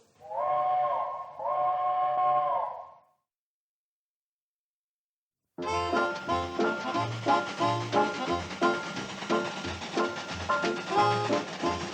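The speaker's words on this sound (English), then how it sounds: "Train's coming, Kate." A steam train whistle blows two long wailing blasts, then stops, and after a gap a loud chuffing, clanking train approaches with rhythmic puffs and mechanical rattling, close and alone in a sitcom junction setting.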